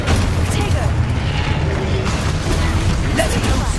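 An Expulso spell explosion in a Harry Potter video game, a loud, continuous rumbling blast with mechanical clanks and creaks mixed in, with a voice talking over it.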